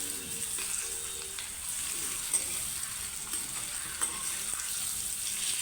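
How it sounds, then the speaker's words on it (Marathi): Red Kolhapuri masala spice paste sizzles and fries steadily in hot oil in a pan, a soft continuous crackle heard close with faint stirring and no voices. "हे सगळं आता आपण परतवून घेतो"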